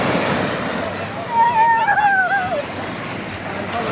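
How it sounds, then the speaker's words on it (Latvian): Sea waves break on a Cyprus shore in a continuous rushing roar mixed with wind noise on the microphone, while a voice briefly rises in the middle. "vilnis nāk."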